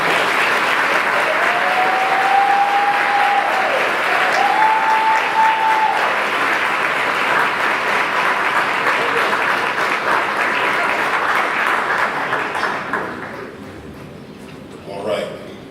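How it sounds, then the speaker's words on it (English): A large audience applauds steadily at a UNCF masquerade ball, a dense, sustained wash of clapping that fades out toward the end, with a brief voice over it. "Give him another round of applause."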